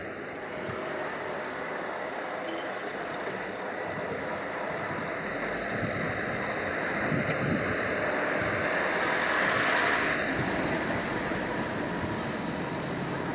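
Sea waves washing against a stone-protected beach in Sanremo, a broad steady hiss and rush with a gentle swell building toward the end, moderately distant and without talk.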